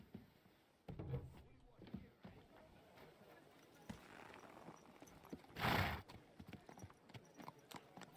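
Horse in Kingdom Come Deliverance 2, with scattered hoof clip-clops and a short loud whinny burst near the middle, under intermittent talking.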